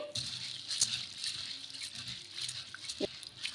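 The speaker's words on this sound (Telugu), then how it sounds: "ముందుగా సగ్గు బియ్యాన్ని ఒకసారి కడిగేసుకోవాలి" Sago pearls are washed by hand in a bowl of water, giving soft sloshing, swishing and gritty rattling as fingers stir the wet pearls, close up and steady, with a louder splash near the end.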